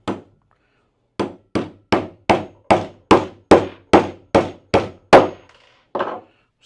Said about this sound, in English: We're going to use the hammer.